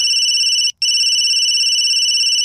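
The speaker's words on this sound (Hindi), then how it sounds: "अरे इसे ये रिंगटोन बहुत पसंद है।" A phone ringtone plays loud and steady as a continuous bright two-tone electronic warble, cutting out for a split second before resuming, with no talk over it.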